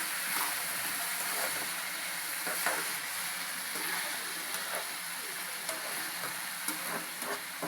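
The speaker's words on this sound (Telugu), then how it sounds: "ఇంకా ఇలాగే నూనెలో వాడాలండి" Potatoes and carrots fry in oil with salt in a pan, giving a steady close sizzle and hiss throughout, broken now and then by the faint scrape and clink of stirring.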